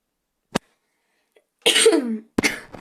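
A sharp click, then a harsh cough up close, followed by a second short cough burst a moment later.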